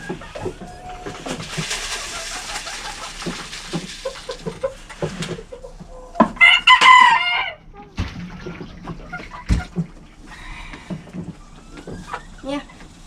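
Chickens and a rooster in a backyard flock cluck and call in scattered bursts, with one louder crowing-like call near the middle, mixed with nearby rustling and a person speaking.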